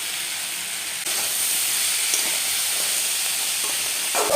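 Chickpea ghugni with chilli powder and salt in a pan gives off a loud, continuous hiss and sizzle, stirred with a few soft scrapes near the end.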